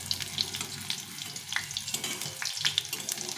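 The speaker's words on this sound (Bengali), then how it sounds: "দেখো কত সুন্দর বড়াগুলো ভাজা হয়ে যাচ্ছে।" Fish-oil fritters sizzle in hot oil in a home kitchen, a soft steady bubbling hiss with scattered small pops and crackles, fairly quiet and without talk.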